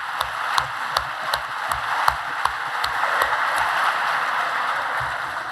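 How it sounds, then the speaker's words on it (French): An audience applauds the rectors at a formal academic ceremony, with steady crowd clapping and a few louder individual claps punctuating it, continuous for several seconds at moderate distance. "On applaudit les recteurs, c'est quand même pas mal cela."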